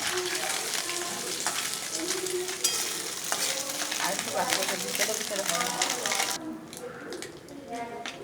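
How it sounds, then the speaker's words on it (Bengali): Kajoli fish frying in hot oil gives a steady, close sizzle with occasional stirring, while a person talks over it; the crackle thins out near the end. "বন্ধুরা দেখুন মাছগুলো আমার লাল লাল করে ভাজা হয়ে গেছে"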